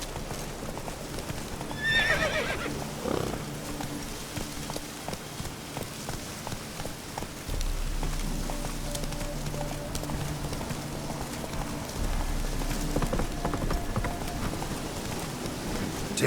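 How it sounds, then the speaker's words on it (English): A horse whinnies once, then its hooves clip-clop steadily at a walking pace in the video game The Witcher 3, with light rain in the background and no talking. "Whoa there, Roach."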